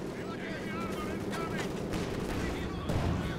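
Rapid aircraft strafing gunfire rattles across a Company of Heroes battlefield on the Port of Hamburg map, a sustained crackling barrage under a busy mix of game noise, with a heavier burst near the end.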